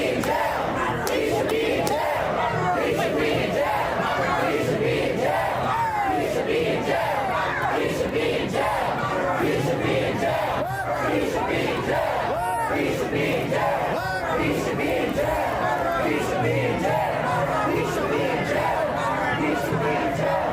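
Around two hundred protesters booing together at a Black Lives Matter demonstration, a loud, sustained roar of massed voices that pulses and swells continuously without a break.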